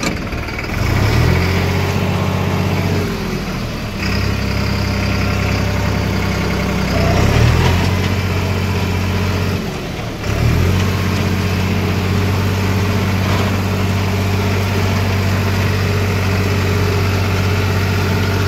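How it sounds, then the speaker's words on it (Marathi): Loud, steady diesel rumble from a New Holland 3630 tractor running in third gear with a rotavator, its engine note dipping briefly a few times before settling back to a constant drone. "तीसरे गियर में ट्रैक्टर चालू है"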